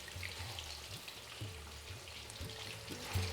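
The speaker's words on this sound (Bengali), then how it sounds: "এখানে দিয়ে দিন ম্যারিনেট করা চিকেনটা" Marinated chicken dropped in batches into hot oil for a Bengali chicken kosha, frying with a steady low sizzle and soft crackle throughout, fairly quiet and with no talking.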